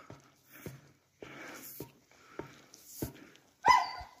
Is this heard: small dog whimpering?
yes